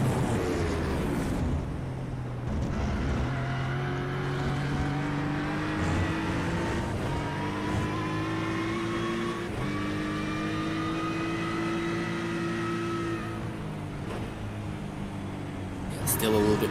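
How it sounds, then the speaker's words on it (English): Mercedes-sourced turbocharged V8 in an Aston Martin Vantage GT3 in a racing video game, a loud sustained engine drone rising and falling through the gears, with a commentator talking over it. "Turbocharged V8 engine from Mercedes in the Aston Martin Vantage in the road car as in the GT3."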